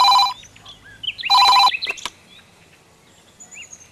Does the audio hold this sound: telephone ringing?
yes